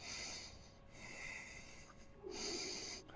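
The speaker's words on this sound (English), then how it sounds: "try and breathe only through your nose." Heavy nasal breathing during an at-home hockey core workout, with two loud snorting, wheezy bursts through the nose separated by a quieter stretch, close and alone.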